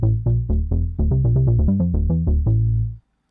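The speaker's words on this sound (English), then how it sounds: "It's an emulation of the Moog synthesizer." A deep analog-style synth bass emulating a Moog synthesizer plays a bouncy run of short plucked notes, fast in the middle, ending on a held note and then silence.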